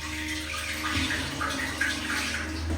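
An automatic toilet flushes in a budget hotel bathroom near Mutianyu, China, giving a steady, close rush of running water that fills the whole moment without speech.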